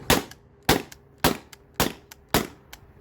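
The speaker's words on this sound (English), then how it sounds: "I'm pretty sure that's all the rounds, so I'm just gonna dry fire" A modified T4E TR68 marker, a paintball-style pistol, dry fired with no rounds left: five sharp, loud pneumatic pops about half a second apart, each followed by a brief faint click, with no talking.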